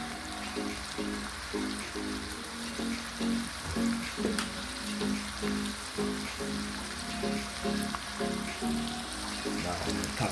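Fish frying in hot oil for a Jamaican fried fish recipe, a steady close sizzle and crackle running throughout with no talk.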